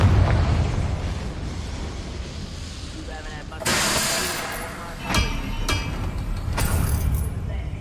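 Confringo blasting spells going off in Hogwarts Legacy: a cluster of sharp, booming blasts, first a longer roar, then several quick bursts that crack and fade over a dense background rumble.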